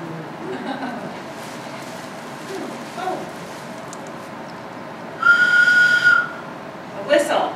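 A small plastic toy whistle from a child's party goodie bag is blown once in a steady, shrill blast of about a second, then gives a short chirp near the end, heard amid room noise and a speaking voice.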